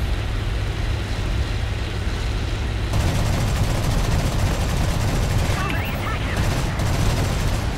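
Bf 109 K-4 fighter cannon fire in a War Thunder arcade air battle, a dense, loud rattle of rapid gunfire that grows heavier partway through, mixed with engine roar and talk.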